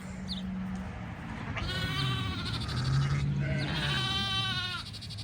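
Ewes bleating on a farm pasture near an electric fence, several wavering bleats overlapping in quick succession over steady outdoor background noise, fairly close.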